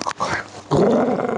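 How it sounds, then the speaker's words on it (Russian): A captive wolf growls low and rough while eating white bread, a short grumbling rumble close by that breaks for a moment and then comes back stronger and sustained. "Злой волк."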